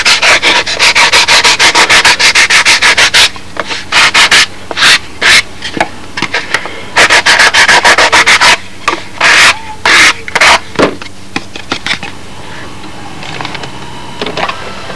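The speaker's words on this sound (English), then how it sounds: "I'm going to do it with fine sandpaper when I'm real happy with the final shape." Sandpaper being rubbed back and forth over a model B-25 aircraft engine nacelle, a loud, close, steady scratchy rasp in rhythmic strokes that become shorter and more broken toward the end, with no talking.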